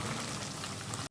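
Chopped onions sizzle in hot oil in a pan while being sautéed for a Chettinad quail pepper fry, giving a steady, dense crackling hiss throughout that cuts off abruptly at the end.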